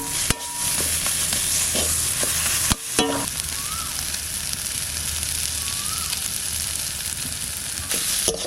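Ash gourd leaves stirred and fried in a pan give off a steady, close sizzle, broken by a couple of sharp utensil scrapes against the pan, with no talking.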